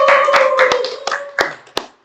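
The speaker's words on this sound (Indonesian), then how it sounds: "Tepuk tangan untuk kita semua." A few people clap briefly in a small studio after an Easter podcast segment, a short scattered patter of hands with a faint tone underneath, dying out within two seconds.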